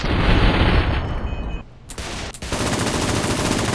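Dense, loud gunfire in Fallout: New Vegas, Lonesome Road DLC, fills the scene with rapid overlapping shots, broken by a short drop and a few sharp bangs before the volley resumes.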